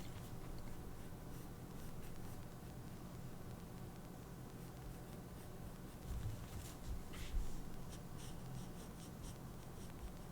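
A pencil sketches on paper during a live drawing session, producing soft continuous scratching with quick stroke bursts that grow busier toward the end, faint and close over a steady background hiss.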